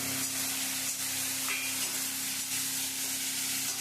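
Pre-boiled mutton is stir-fried for kosha in a pan, a dense continuous sizzle over a low steady hum from the stove, with faint scraping as it is turned.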